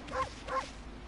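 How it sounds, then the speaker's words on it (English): Two short, yippy barks from the wolf character in the video game Okami, triggered with the bark button, close and clear with a light game backdrop. "I love that this game has a bark button."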